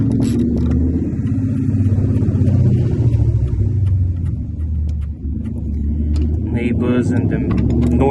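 Noisy BMW cars nearby, a deep continuous engine rumble that dips briefly before swelling again, loud and close, with voices heard underneath.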